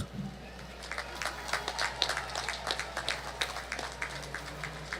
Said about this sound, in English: Certainly rousing applause there for the Maho Scout Troop